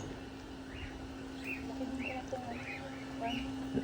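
Birds chirping at a rose garden and farm resort in the Philippines, a series of short, faint tweets repeating every half second or so over a steady outdoor hum, with no talk.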